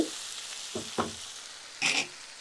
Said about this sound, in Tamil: தக்காளி. இப்போ தீயை நிதானமாக வச்சுட்டு இதை நல்லா வதக்கிடணும்.